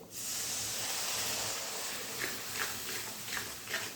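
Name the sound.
spice masala sizzling in pan after adding water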